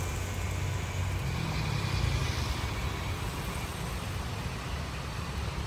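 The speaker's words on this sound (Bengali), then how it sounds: "গাড়ি চলাচল করছে" Road traffic on the Dhaka-Sylhet highway during six-lane construction: a steady low rumble of passing cars and trucks, moderately distant and unbroken, with no talk.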